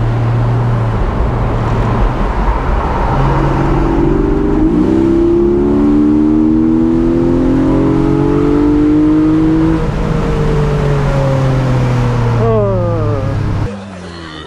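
2023 Porsche 718 Boxster GTS 4.0 flat-six engine accelerating through the gears, revs climbing in rising sweeps with a shift, loud and close from inside the car with steady road noise.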